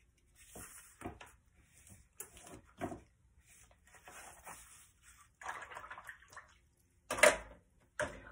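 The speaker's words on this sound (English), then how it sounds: "I'm trying to get the water out of this quill" A quill pen is rinsed in a small water container, giving faint, intermittent splashes, clinks and taps against the container in a quiet room, ending in a sharper knock.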